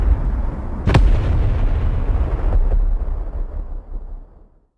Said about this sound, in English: You can see the fireworks are working.